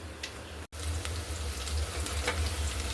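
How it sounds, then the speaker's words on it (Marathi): Golden-browned onion sizzles in a pan, a dense, steady hiss close by with a brief dropout near the start and no voices over it. "तर कांदा इथे मस्त सोनेरी रंगावर परतला गेलेला आहे."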